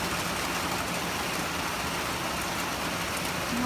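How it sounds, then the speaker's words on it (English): Heavy rain pouring down outside a porch during a thunderstorm, a steady dense hiss of falling water with no breaks, moderately loud. "Yeah, it's pouring, thundering."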